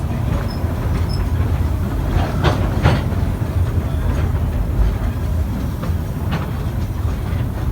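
Train cars rolling along the Georgetown Loop Railroad in the mountains, a steady broadband rumble with faint clicks and rattles throughout, close and continuous with no talk.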